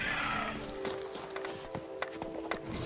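A horse in The Witcher 3 game gives a short whinny, followed by steady clip-clopping hooves with scattered sharper hoof strikes.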